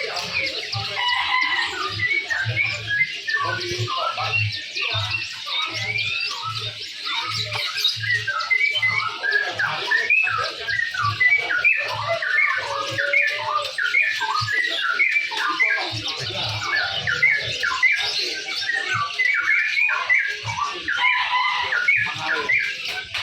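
Dense, continuous chirping and twittering of many caged birds at a crowded bird market, loud and close throughout, with occasional louder calls and a low hum beneath.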